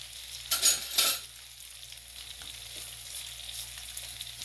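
Ginger, garlic and cumin frying gently on low heat in a pan for a roasted brinjal chutney, with a brief burst of stirring and clatter early on, then a soft, faint sizzle.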